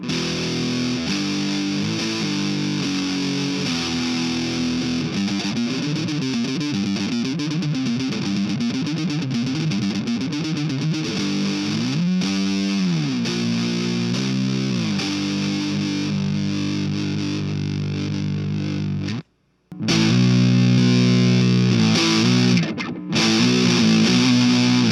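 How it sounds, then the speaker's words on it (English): An electric guitar run through an overdrive pedal into a fuzz pedal gives a thick, heavily distorted tone, with sustained chords and bending riffs played loud and continuous, broken once by a brief silence near the end. "I like to have it after the overdrive so that if I want, I can push that fuzz even harder by going into it with an overdriven signal"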